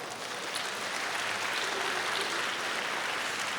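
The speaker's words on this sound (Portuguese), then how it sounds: "Pode dar uma salva de palmas?" A church congregation applauding together, a dense, even wash of clapping held for several seconds at a moderate distance with no voices over it.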